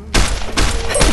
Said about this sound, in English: He just keeps shooting him.